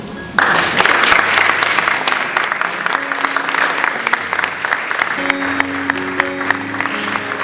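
An audience applauds steadily at a youth achievers summit and awards event, dense sustained clapping from a sizable crowd that holds strong throughout, with a sustained musical tone playing faintly underneath.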